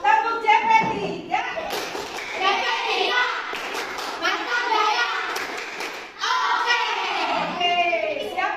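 A class of children chants the Tepuk JP3 clapping chant together, with rhythmic hand claps and thuds mixed into loud group voices that continue steadily throughout.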